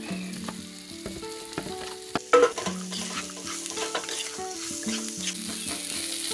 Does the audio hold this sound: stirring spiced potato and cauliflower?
yes